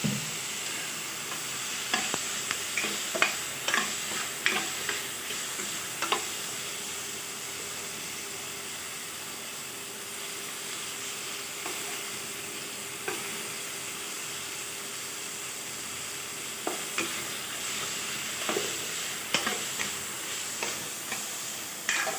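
Food sautés in oil in a pan with a steady sizzling hiss, while a utensil scrapes and taps against the pan in irregular stirring strokes throughout. No one speaks.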